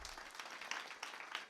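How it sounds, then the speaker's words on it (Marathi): Audience clapping at a Warkari kirtan in tribute to a mridang and pakhawaj player, a continuous crisp patter of many hands with brief swells, moderately distant and steady throughout. "एकदा जोरदार टाळ्या वाजवा."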